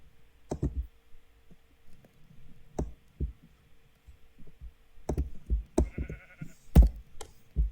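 Sheep in the video game Minecraft give several short bleats, mixed with sharp mouse or keyboard clicks and knocks in an otherwise quiet scene.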